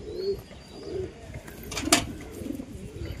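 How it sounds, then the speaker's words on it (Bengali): Pigeons in a loft, including a male Jagchadi pigeon, coo in low, soft bursts, with a brief sharper flutter or call near the middle; close by and fairly quiet, with no talking. "এই একটি কবুতর"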